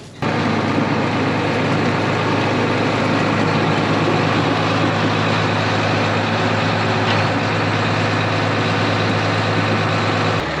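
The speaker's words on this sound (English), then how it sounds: "I'll have to come with the tractor at an angle, a pretty steep angle" A tractor idles and maneuvers at a steep angle to hook up a trailer, its heavy diesel engine droning loud and steady with a low rumble throughout, close by and alone.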